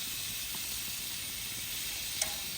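Steak seared briefly on a grill after flipping, giving a faint, steady hiss of sizzling with a small tap near the end, no voices.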